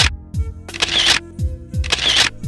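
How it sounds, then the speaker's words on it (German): A camera shutter fires in rapid bursts while taking photos of a hamster in a LEGO maze. Sharp, close, repeated clicks come in quick clusters with brief gaps between them. "Ein paar tolle Fotos haben wir geschossen."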